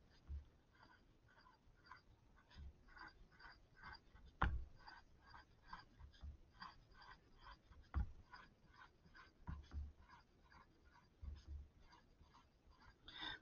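Chalk or marker scratches out a long number on a board during a chemistry lecture on the mole, faint rhythmic strokes and taps across a quiet room, with a couple of sharper knocks.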